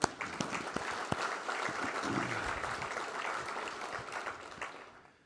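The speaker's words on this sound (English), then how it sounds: "I'd like a round of applause for everybody" A crowd applauding steadily at a plumbing union event, a dense patter of many hands clapping that holds for several seconds before fading out at the end.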